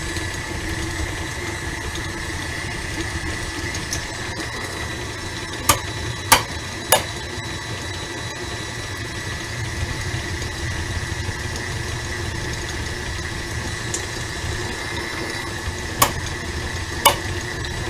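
An electric mixer whips butter for peanut butter chocolate chip cookie cup dough with a steady, moderate motor whir, punctuated by a few sharp clicks of the beaters knocking the bowl.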